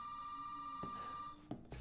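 Telephone ringing inside the horror game Resident Evil 7: a steady electronic ring tone holds for over a second, then breaks off amid short bursts of noise, moderately quiet and with no talk.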